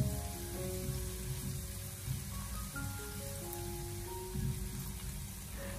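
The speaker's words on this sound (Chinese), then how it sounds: "油热以后再下切好的蒜末和姜末，开小火先把小料翻炒一下，把小料炒香，给它爆出香味" Minced garlic and ginger stir-fry in hot oil in a wok over low heat, giving a faint, steady sizzle throughout under soft tonal background sound.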